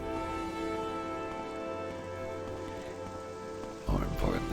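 Steady rain falls in the video game Morrowind, a soft continuous patter under a tonal game background, before a louder burst of other sound near the end.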